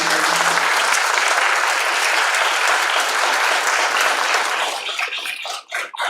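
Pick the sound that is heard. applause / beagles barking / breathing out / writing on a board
applause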